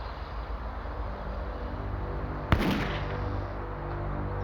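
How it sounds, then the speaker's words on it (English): A single sharp gunshot cracks through a quiet residential street on a morning in 1988, a loud close bang with a short ringing decay over low steady background hum. "a gunshot shattered the morning silence"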